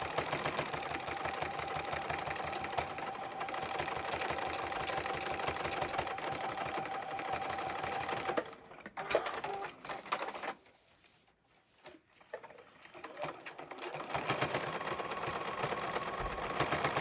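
A sewing machine quilts a baby space turtle quilt, running in a steady, fast mechanical whir close by, briefly stopping and quieting near the middle before starting up again, with no talking.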